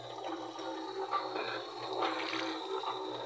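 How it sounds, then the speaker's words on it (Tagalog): Steady rushing water pours continuously from a pipe fed by an engine-driven pump, a broad hissing gush with a low mechanical hum underneath, no voices. "lumalabas na yung tubig, nakakabit na yung makina"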